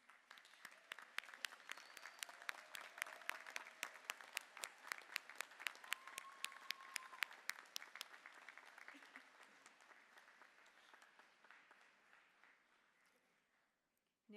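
Applause from a commencement crowd at a law school graduation, a rhythmic patter of many hands that holds steady and then slowly fades out toward the end, heard from a distance.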